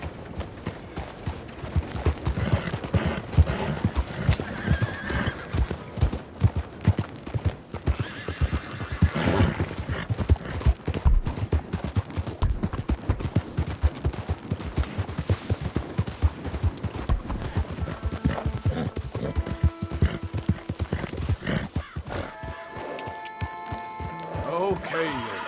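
Horse hooves clip-clopping and neighing in the Red Dead Redemption 2 video game, a steady run of hoofbeats with whinnies and busy game sounds, with voices speaking over parts of it.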